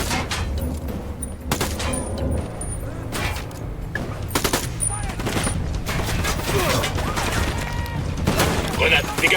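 Video game gunfire in a battle, with rapid bursts and sustained automatic shots mixed with explosions and clatter, loud and continuous under shouted voices.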